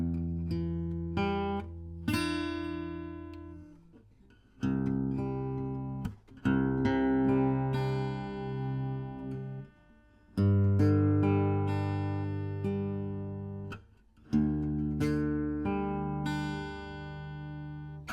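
Acoustic guitar playing the second part of a song as a lesson run-through, strummed chords ringing out in phrases with brief pauses between them, solo and close with no voice.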